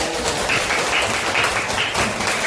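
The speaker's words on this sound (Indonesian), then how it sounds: "Tepuk tangan dulu" A classroom of children claps together in a steady, rhythmic pattern, fairly close and dense, with no talking over it.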